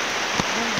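Heavy rain pours down in the dark as a steady, dense hiss of drops close by, with a brief louder burst partway through.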